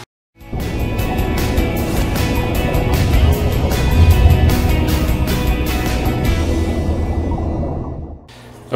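A car drives along a road, giving a steady, loud cabin hum of engine and tyre rumble with a hiss over it. The noise holds for about eight seconds, then cuts off abruptly near the end.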